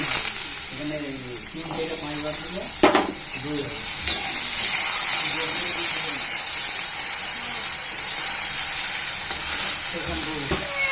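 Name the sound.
potatoes frying in tempered oil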